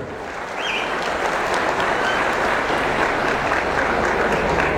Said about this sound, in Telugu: గట్టిగా చప్పట్లు కొట్టాలి